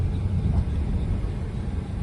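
A car creeps slowly along a rough, damaged stretch of road on a road trip with a pet dog, giving a steady low engine and tyre rumble throughout, heard close from inside with no talking.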